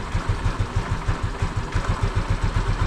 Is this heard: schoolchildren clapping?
no